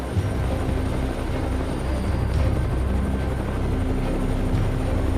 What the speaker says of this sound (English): The pilot quickly lowered the altitude, flying the helicopter right over the herd of pigs.